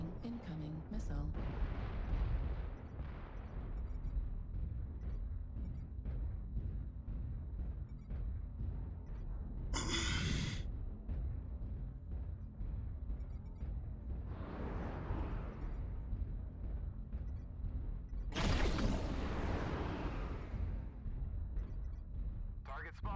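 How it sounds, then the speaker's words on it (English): Missiles exploding in the MechWarrior Online video game, heavy booming blasts and bursts rolling under constant game noise, with a few sharp louder impacts and players talking throughout. "Warning incoming missile."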